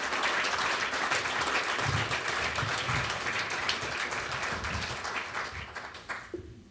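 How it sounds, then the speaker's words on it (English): Sustained audience applause at an award ceremony honoring Dr. Homer Rice, a dense standing ovation of many clapping hands that holds steady, then thins and fades out at the end. "That standing ovation not only warmed my heart"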